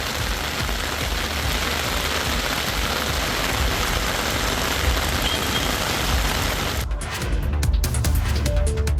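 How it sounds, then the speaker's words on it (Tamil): Heavy rain pouring in Kodaikanal, a dense, steady hiss of downpour that fills the whole stretch and shifts to a choppier spattering texture near the end, with no voices. "கொடைக்கானலில் சுமார் அரை மணி நேரத்திற்கு மேலாக கனமழை பெய்தது"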